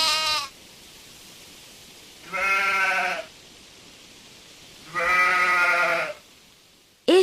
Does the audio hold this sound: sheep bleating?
yes